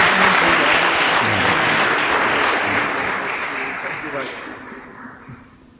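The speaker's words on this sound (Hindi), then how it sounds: "जोर से ताली बजाएं।" Audience applause at a church special meeting, a broad steady wash of clapping hands that holds loud for several seconds and then gradually tapers off, with voices mixed in underneath.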